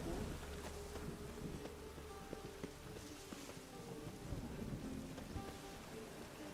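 Steady heavy rain in the video game The Witcher 3 hisses continuously, with faint rumbles and scattered drips, quiet and unbroken.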